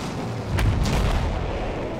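Artillery fire in the Battlefield 1 video game: a heavy boom with a broad low rumble lands midway, a second softer blast follows, set against continuous battlefield din.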